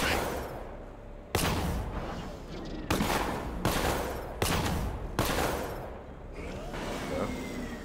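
Repeated loud gunshots ring out in sharp, evenly spaced bursts, each followed by a decaying tail, continuing steadily with no talk over it.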